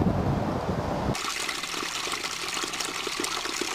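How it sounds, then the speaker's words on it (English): Water trickles and rushes steadily in a Scottish glen, heard close and continuous, with a denser gush at the start that settles into a bright, even flow, with no voices. "everywhere you go you can hear little trickles of water, bigger rushing waterfalls"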